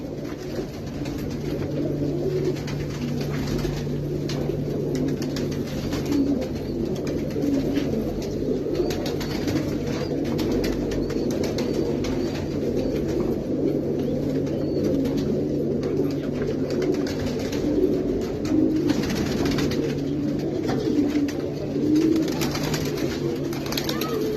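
Pigeons cooing on a rooftop where they are kept in cages, a steady chorus of soft low coos throughout, close and continuous, with faint background noise.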